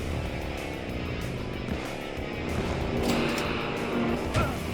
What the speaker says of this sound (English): they put like a revving, like tires on the road sound effect in this